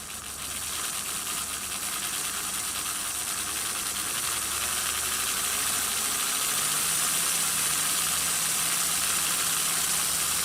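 The small electric motor of a Lima Class 31 model locomotive runs continuously with a steady whirring hum and mechanical rattle, rising slightly in pitch and loudness as the power is wound up. No voices.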